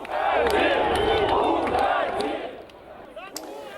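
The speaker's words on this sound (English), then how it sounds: "as his helicopter left the aborted rally, they booed yet again" A large outdoor crowd of angry factory workers booing Belarus President Alexander Lukashenko as his helicopter leaves an aborted rally, a loud sustained roar of jeers and shouts that thins and fades toward the end, with a brief sharp burst near the close.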